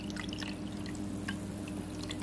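Mandarin orange drink is poured into a cup, a quiet, steady trickle with faint drips and splashes throughout.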